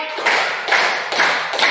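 A school class claps in a counted clapping game, four sharp group claps in an even rhythm, close and loud, each hit ringing briefly before the next.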